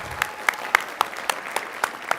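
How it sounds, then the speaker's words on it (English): A sparse round of applause at a school board meeting honors a student, a few people clapping in steady, distinct claps. "we'll give you a round of applause that you so well deserve"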